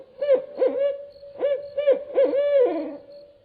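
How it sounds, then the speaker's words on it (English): Barred owl calling a rhythmic series of hoots, several paired notes followed by a drawn-out, descending final hoot, loud and close against a quiet background. "Barred owls are a mid-sized owl with a unique "who cooks for you,"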